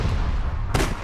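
A single sharp pistol-like gunshot in the APB Reloaded game cracks out near the end, loud and close, over a steady, heavy game background.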